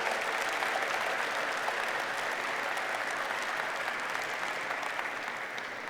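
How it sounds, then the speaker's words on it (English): Steady audience applause at Google Developer Days India 2017, a dense even patter of many hands held at moderate distance for several seconds, fading slightly at the end. "I want to give yourself a big round of applause for all the women and the men"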